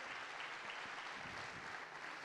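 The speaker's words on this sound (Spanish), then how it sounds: "Vamos, fuerte ese aplauso al Rey de la Gloria." Church congregation at a Sunday service applauding, a continuous dense roar of clapping at a steady level, with no pauses throughout.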